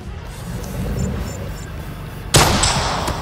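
In Call of Duty Mobile battle royale, a single loud, sharp gunshot cracks out after a quiet stretch of low background rumble, its echo decaying over the following second.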